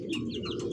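A pair of Rasgolla pigeons, white with sky-blue colouring and a pot-shaped neck, give a brief, low cooing murmur close by, with faint chirps over it.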